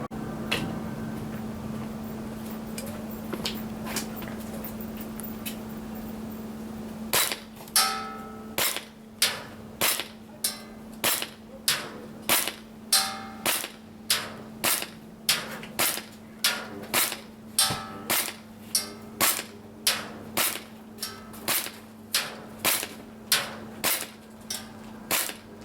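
A Cybergun CANiK TP9 Elite Combat airsoft pistol fired at targets: after a quiet stretch with a steady hum, a long run of sharp, evenly spaced shots, about one per second, crisp and close.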